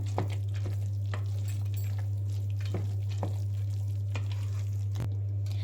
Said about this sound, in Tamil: இப்போ நல்லாவே கலந்து விட்டுக்கலாம். நல்லா கிளறி விட்டுக்கலாம்.